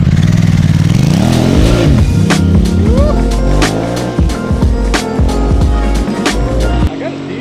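A Honda Africa Twin 1100 motorcycle revving hard on a wheelie attempt, loud and close with rising and falling engine pitch, sharp throttle blips and clattering, under wind noise.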